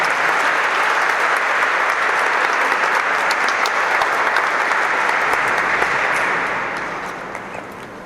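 Loud, sustained applause from a large crowd at a forum as a speaker is welcomed to the podium, dense and steady, tapering off toward the end.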